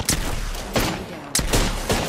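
Apex Legends gunfire comes as rapid bursts of close, loud shots in quick succession, with a couple of sharp bangs splitting the short burst.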